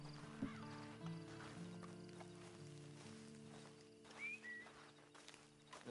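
In the Red Dead Redemption video game, a horse's hooves clip-clop at a slow walk. A quiet neigh rises near the end over soft ambient outdoor sounds.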